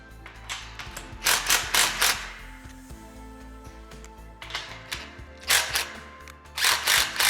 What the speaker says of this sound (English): we can go ahead and tighten our top bracket